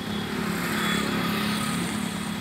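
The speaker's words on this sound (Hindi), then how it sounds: "एक बार सारा सेल्फ मार दो इसकी, आपको आवाज़ सुनवाते हैं" A 1992 Mahindra 265 DI tractor engine with 490 tyres runs steadily nearby, a continuous loud diesel chug and rattle with no pauses.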